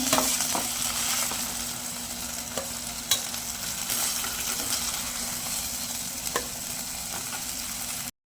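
Fish pieces frying in a pan for a green masala dish, a constant moderate sizzle with scattered clicks and taps of a spatula, no voices.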